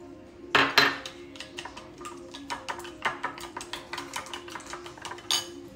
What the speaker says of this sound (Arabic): بعد ما خفقت البيض والحليب والزعتر وحطينا له ملح